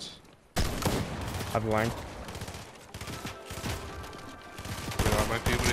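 Video game gunfire erupts in dense, loud bursts of rapid shots, mixed with other game effects and overlapping talk from players throughout.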